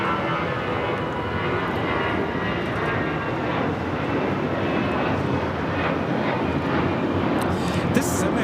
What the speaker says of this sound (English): This is American Airlines 1113 taking off to San Antonio on the A319.